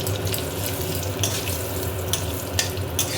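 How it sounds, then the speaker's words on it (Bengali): Cumin seeds, dried red chilli and bay leaf fry in hot oil in a kadai, giving a dense, steady hiss with a few sharp spits and crackles, close up and without voices. "জিরেটাকে বেশ ভালো করে একটু ভেজে নিতে হবে"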